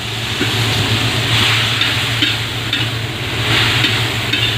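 Pork and liver sauté with tomato in a hot pan for menudo, giving a steady loud sizzle broken by a few stirring scrapes, close up, with no talking.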